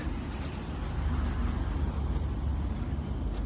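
A truck rolls along a road nearby, a continuous low rumble of engine and tyre noise with steady traffic hum, no voices over it.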